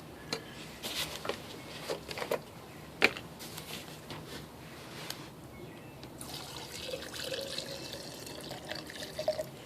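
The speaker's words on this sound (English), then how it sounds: "Now I have my solvent that I'll be pouring in." Solvent pours and trickles over disassembled injector parts from a 1986 Toyota Land Cruiser HJ60 2H diesel, a faint liquid splash with scattered drips and light ticking clinks of metal pieces.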